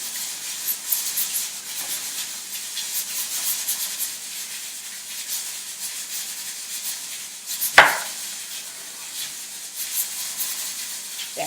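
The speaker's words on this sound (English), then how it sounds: "Wash your onion." An onion is rinsed under running water from a kitchen tap, a steady hissing flow with soft rubbing as it is handled and a brief louder splash or knock partway through, with no talking.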